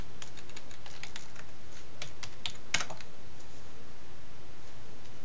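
Fingers type a login on a computer keyboard, a run of close, light key clicks in quick irregular bursts with one sharper tap midway, then quiet room tone.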